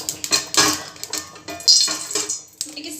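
A steel pan clatters and scrapes as veg or paneer fried rice is cooked, with rapid, close metallic knocks and clinks of utensils in an irregular rhythm.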